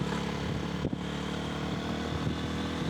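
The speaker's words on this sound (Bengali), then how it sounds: "এই গাড়ি তো বাইক উঠতে চাইতেছে না" Motorcycle engine droning steadily as the bike strains up a hilly road in Bandarban's Nilachal hills, a loud close rumble with a brief dip partway through.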